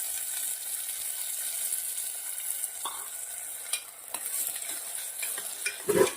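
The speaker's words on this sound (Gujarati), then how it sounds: "બે મિનિટ સાંતળી લઈશું હવે આપણે શાક સરસ સંતરાઈ જાય" Green peas and chopped brinjal sauté in a pan with a steady, gentle sizzle. A spatula scrapes and stirs now and then, and a clack near the end stands out.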